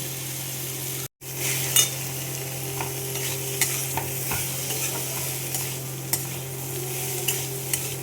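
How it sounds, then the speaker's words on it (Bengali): Ground chili, cumin and coriander spices sautéing in a pan for a Bengali fish-head muri ghonto, a steady close sizzle with intermittent scraping stirs and light utensil clicks, a brief dropout near the start. "মশলাটা কষিয়ে নেব।"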